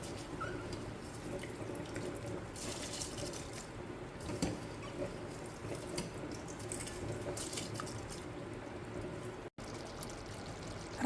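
Water poured into a pot for seeraga samba chicken biryani, a steady running splash from a tap or jug lasting several seconds with a soft continuous flow and some kitchen clatter.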